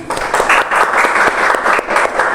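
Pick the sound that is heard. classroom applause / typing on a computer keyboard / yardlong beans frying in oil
classroom applause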